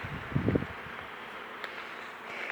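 Honeybees working rapeseed forage buzz steadily at a hive, a close continuous drone with a louder passing bee near the start and no talk.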